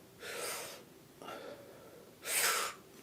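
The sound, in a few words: sharp inhale, breathing in incorrectly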